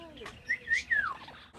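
A few short pet bird chirps and whistled calls at a bird rescue shelter in Saitama, Japan, fairly close, rising and falling in pitch against a quiet background.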